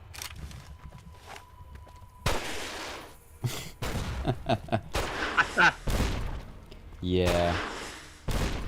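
Flare gun firing in Fallout: New Vegas, several sharp bursts and thumps spread across the span with a brief whooshing tail, mixed with quieter game sounds and a short spoken word.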